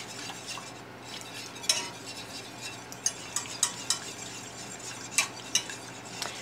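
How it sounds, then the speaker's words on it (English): A shepherd's pie mixture is stirred in a pan over low heat, a spoon scraping and clinking against the metal in a few sharp taps over a soft background hiss. "Give this mixture a stir."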